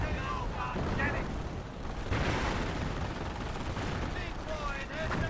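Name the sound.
gunfire in a World War II strategy video game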